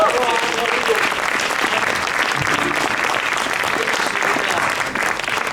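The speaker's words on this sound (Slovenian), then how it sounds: "Aplavz za našega Alda" An audience at a Slovenian literary reading claps in a dense, even wave that holds loud for several seconds and eases slightly near the end.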